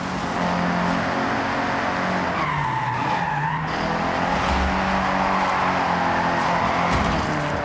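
A Nissan S-chassis car drifts in Forza Horizon, its tires squealing loudly and continuously through a long slide over a steady engine drone, with no talk.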